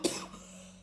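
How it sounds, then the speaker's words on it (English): A person coughs once, a single sharp burst up close that fades quickly, quiet overall. "Oh my god, I'm gonna be coughing this whole video."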